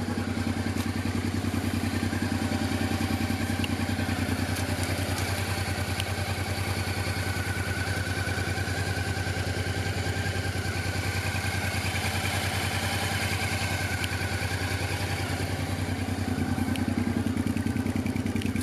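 A 1995 Honda Africa Twin 750 RD07 idles steadily close by, an even low throb with light mechanical clatter running unchanged throughout.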